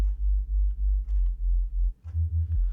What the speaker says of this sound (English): I think the sub is fairly standard, just a sine wave with some distortion here and there.